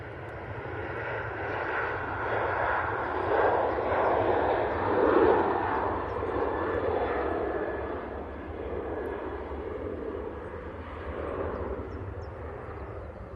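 A TUI jet aircraft, its broad engine roar swelling and fading steadily at moderate distance over a low constant rumble, with no voices.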